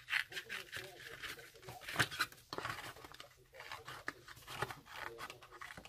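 Small scissors snip through a paper storage box made for artist trading cards, giving a run of close, crisp cuts mixed with paper rustling and crinkling, with faint talk in the background.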